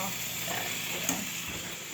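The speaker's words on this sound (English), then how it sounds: "She's cooking breakfast" Breakfast sizzles and fries on a solar-powered cooker, a steady close hiss of frying throughout with a small pop midway.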